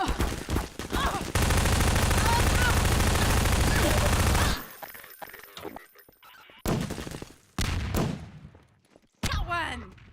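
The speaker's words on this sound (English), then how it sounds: "Firing SMG grenades at them is kind of fun." SMG grenade launcher fire in a Combine-themed video game: a dense, continuous barrage of shots and blasts for several seconds, then separate loud bursts with short gaps between them.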